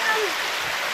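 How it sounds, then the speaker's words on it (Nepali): A small mountain stream in Humla flows nearby, a steady close rushing and babbling of water with no pauses, briefly joined by a faint tone at the start. "यस्ता सानातिना झरनाहरू, यस्ता सानातिना खोलाहरू त कति छन्"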